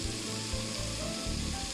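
Canjiquinha (hominy grits) cooking in water in a pan with a bay leaf, giving a steady, close sizzling and bubbling that holds at an even level throughout.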